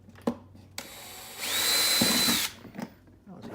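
A power drill whines up to speed and bores a hole, about a second of steady high-pitched drilling close by, with a few soft knocks and handling clatter before and after.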